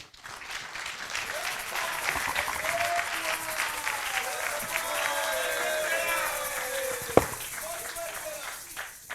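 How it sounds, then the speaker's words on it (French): Sustained audience applause at the official launch of the CONPAAP's activities, honoring coordinator Serge Kayembe Mwadianvita; steady clapping from a crowd fills the whole stretch, with voices and murmurs mixed in throughout. "Merci encore d'applaudir pour Serge Kayembe Mwadianvita, coordonnateur de la CONPAP."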